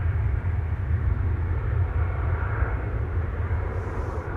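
An easyJet airliner at Amsterdam Schiphol Airport gives off a steady, deep engine rumble with a broad roar over it. The sound stays constant and fairly loud throughout, with no talking.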